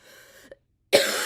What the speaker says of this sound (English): I don't know why I'm coughing so much right now